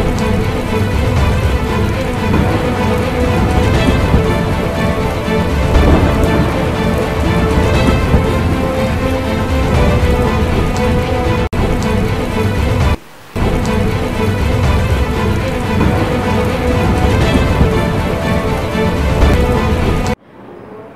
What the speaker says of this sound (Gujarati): ધીમી ધારે શરૂ થયેલ વરસાદ એકદમ પિકઅપ પકડતા એક કલાકમાં 3 ઇંચ વરસાદ ખાબક્યો હતો